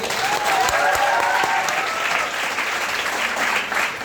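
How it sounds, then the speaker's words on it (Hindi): Audience at a function in Sandila claps in sustained, steady applause, a dense crowd of hands heard throughout at moderate loudness. "इनके लिए एक बार ताली बजाइए"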